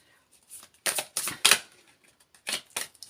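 Tarot clarifier cards are shuffled and pulled, with a few sharp riffling bursts and card snaps in quick clusters, close and fairly loud against an otherwise quiet background.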